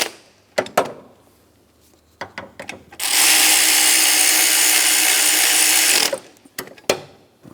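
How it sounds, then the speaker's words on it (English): Engine mount bracket bolts on a 2004-2008 Pontiac Grand Prix are worked with tools, with scattered metallic clicks and clunks around one loud, sustained three-second power tool whir, close up. "Now we can tighten those up, and I'm going to torque them to 35 foot-pounds."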